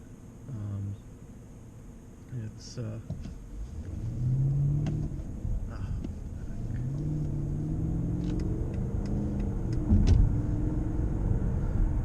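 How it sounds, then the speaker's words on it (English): A 2007 Mercedes-Benz CL550 engine revs up from a standstill in sport mode, rising in pitch through the gears over a steady road rumble, heard from inside the cabin. "I put the car into sport mode so you can hear it accelerate a little more from a standstill here."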